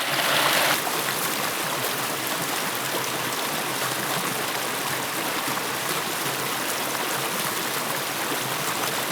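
A forest stream flows steadily close by, a constant broadband rush of water with no pauses and no voices.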